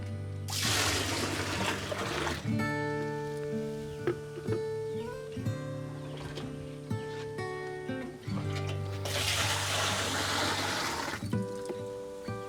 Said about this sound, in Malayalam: ആറ് നാല് പത്ത് ഗോമൂത്രം ഇതിലോട്ട് ഒഴിക്കുകയാണ്